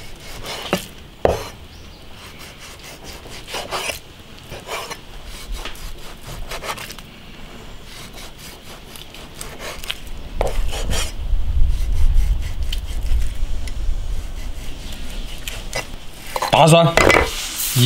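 Knife chopping beef into thin slices on a wooden board for a spicy hot pot, a series of sharp, irregular cuts with scraping and clattering, louder toward the end, over a low background rumble.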